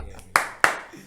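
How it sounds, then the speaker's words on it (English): Two sharp claps from an audience at a late-night football show, about a quarter second apart, near and fairly loud against faint background noise. "please give a round of applause for my ghost man for today"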